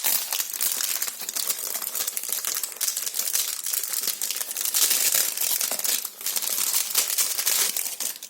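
Plastic packaging around a foam rubber stamp crinkles and crackles loudly up close as it is opened, a continuous rustling with brief pauses and no speech over it.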